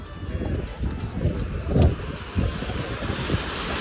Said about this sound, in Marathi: या साईडला पाणी चाललंय.